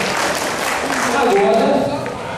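A classroom of police military trainees claps steadily for their instructor, a dense, even patter of applause filling the whole moment with voices mixed underneath.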